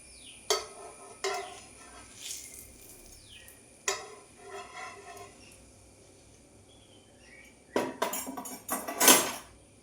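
Fried eggplant slices are scooped out of a frying pan with a metal utensil. Scattered clinks and scrapes sound over a faint sizzle of hot oil, with a denser burst of clattering near the end.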